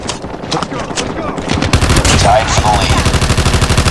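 Rapid automatic gunfire in the mobile shooter Call of Duty Mobile, a loud dense burst of repeated shots that picks up and keeps firing steadily, with people talking over it.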